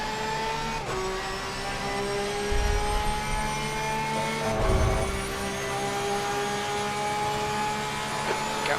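A race car in Assetto Corsa Competizione during a four-hour endurance race at Monza, its engine droning steadily at high revs with gear changes and a couple of low rumbles underneath.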